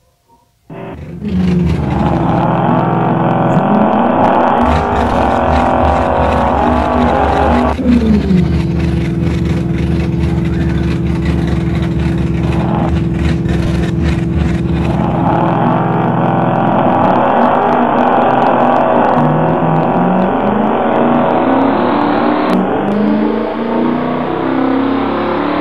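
Drag race cars accelerating in a racing video game: a loud, continuous engine roar runs nearly the whole time, with a rising rev, a drop to a lower steady drone partway through, then climbing pitch again as gears shift.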